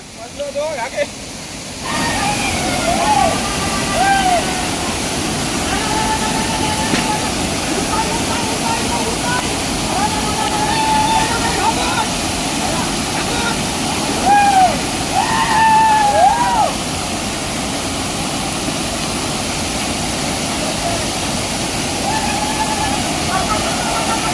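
A Konkan waterfall, where people bathe during the Narali Purnima festival, pours in a steady, full roar that fills the whole stretch, with faint voices mixed into the constant rush.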